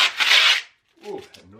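Masking tape is peeled off a screenprinting screen in one short, loud, close rasping tear, followed by a brief gap and some softer scraping handling sounds.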